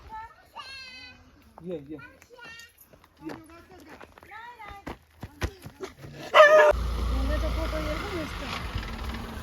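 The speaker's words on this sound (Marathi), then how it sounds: "हा बघा कुत्र्यांना पळवतोय" Several sharp dog barks ring out amid children's chatter as the dogs are chased off in a village, followed by a loud rush of wind or motor noise toward the end.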